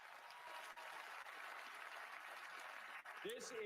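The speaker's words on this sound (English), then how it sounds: "They're cheering Robert" Distant, steady cheering and applause from the audience at the 2024 Oscars ceremony, a faint continuous crowd roar with a voice cutting in at the end.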